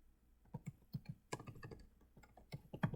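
Rapid, irregular keystrokes on a computer keyboard while entering Linux terminal commands, close and clear in quiet surroundings with short bursts and brief pauses.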